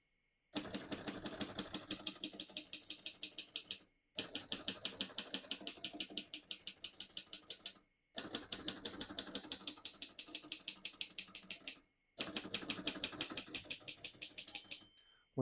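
Rapid mechanical clacking of a 1941 Royal Quiet De Luxe portable manual typewriter, keys struck in quick steady bursts of about four seconds each, separated by short pauses.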